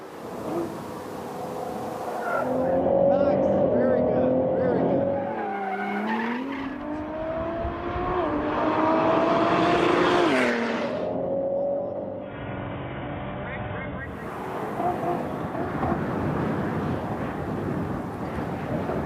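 A 2017 Ford GT sports car is driven hard, its engine roaring and changing pitch through a long run with tire squeal, loud and close with no talking.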